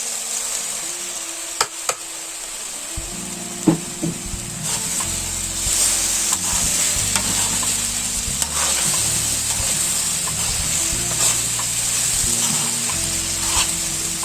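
Okra stir-frying in a ghee-rich masala gravy for Pakistani-style bhindi, a steady close sizzle with repeated stirring scrapes and a few utensil clinks, running continuously over a low background drone.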